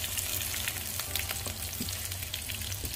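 Tomato and garlic frying in a pan, a steady close sizzle with crackling pops throughout, no voices.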